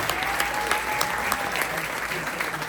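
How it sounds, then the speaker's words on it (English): A packed crowd at a community space event gives a round of applause for volunteers, a thick, continuous roar of clapping with a faint tonal hum underneath. "can you help me give them one more round of applause for saying thank you"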